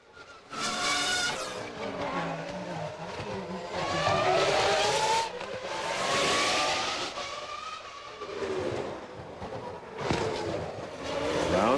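Formula One cars at 2001 Monaco Grand Prix Thursday practice on the street circuit: high-pitched engines scream and rise through the gears, passing one after another close by, loud and continuous for several seconds.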